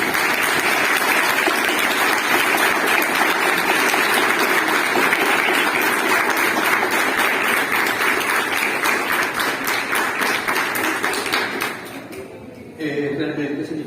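Audience applause at a talk on the craft of storytelling, a long, loud, dense clapping that holds steady for many seconds before tapering off, with a voice starting up at the end.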